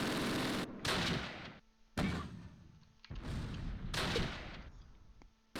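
Mortar rounds and gunfire in the WWII strategy game Close Combat, with several heavy booming blasts and crackling bursts that cut in and out abruptly and are separated by short silences.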